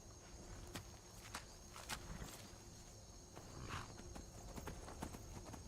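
Horse hooves clip-clopping at a walking pace in Skyrim, the steady hoofbeats close and moderately loud over quiet ambient background with faint insect chirps.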